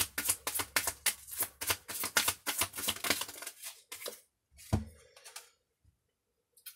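Tarot cards being shuffled by hand close up, a quick run of crisp riffling flicks and taps that slows, then a final soft knock and quiet.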